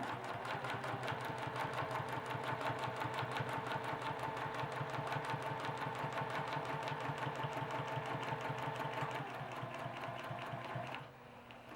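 A sewing machine stitches fabric in a fast, steady mechanical rhythm of rapid needle strokes that runs evenly for about eleven seconds, then cuts off abruptly, leaving a quieter residual hum.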